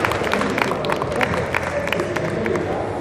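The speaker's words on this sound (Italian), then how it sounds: "Un applauso per Annalisa." Scattered audience clapping and crowd murmur at a motorcycle show in Rome, a brief, moderately loud burst of claps over a noisy hall.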